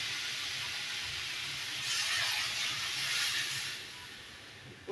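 Water poured into a hot pan of fish curry, giving a steady broad hiss that grows louder midway, holds for a couple of seconds, then eases off.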